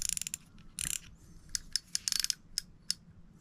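The front drag of a coarse fishing reel being turned, giving quick bursts of small ratchet clicks, close and crisp, in short irregular runs with pauses between.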